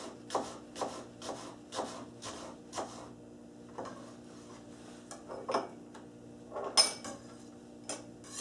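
A knife cuts a carrot and an onion in half on a cutting board, giving a series of close, crisp chops in an uneven rhythm with short pauses between them.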